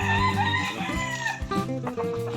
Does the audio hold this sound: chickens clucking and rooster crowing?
yes